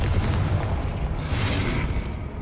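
The Confringo blasting spell in the Hogwarts Legacy game goes off as a loud, close, rumbling explosion. A deep boom holds with a broad roar for about two seconds before easing slightly.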